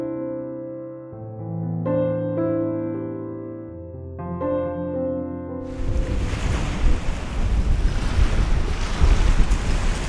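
Strong wind buffets a coastal landscape photography location, rising after a few seconds into a loud, steady rushing roar with surf-like gusts, following a stretch of tonal music.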